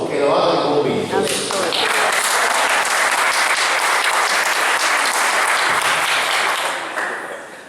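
Dense, sustained audience applause fills the room at a lecture on sustainability and historic heritage, loud and steady for several seconds before tapering slightly at the end.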